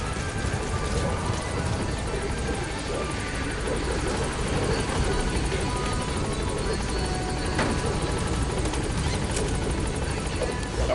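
In Metal Gear Solid V: The Phantom Pain, the Pequod helicopter sits at the landing zone, its rotor chopping loudly and continuously close by with a steady engine drone.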